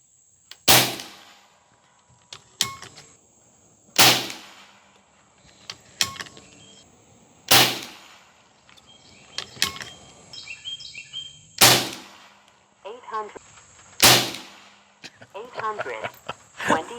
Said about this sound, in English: We're going to do two 5-shot groups at 50 yards.